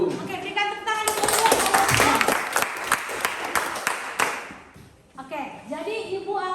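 A classroom of students claps at a fairly close distance, their clapping swelling over roughly three seconds and fading out, with a teacher and voices talking before and after.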